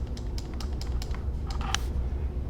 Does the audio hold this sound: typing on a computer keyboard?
yes